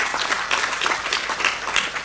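Audience at a talk applauding, a short burst of dense clapping from many hands, steady and fairly close, with no speech over it.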